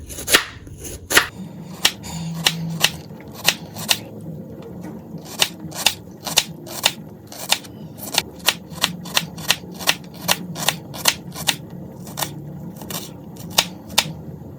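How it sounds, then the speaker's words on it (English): Knife slicing through pork on a cutting board in a home kitchen, a steady series of sharp, distinct chops at an even rhythm, close and clear with a faint low hum behind. "I would slice this way and that way."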